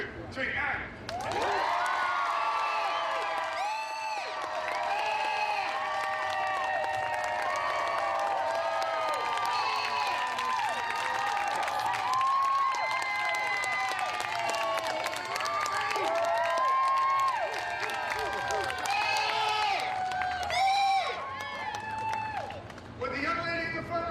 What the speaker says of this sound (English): You guys go crazy with applause.